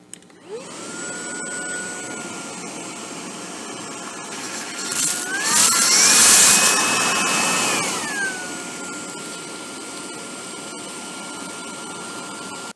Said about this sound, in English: turn the vacuum on, then I'll feed a little bit of debris in.